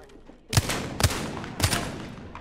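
Gunfire in a shooter video game: three sharp, loud shots at roughly half-second intervals, each with a short ringing tail, over a steady low background.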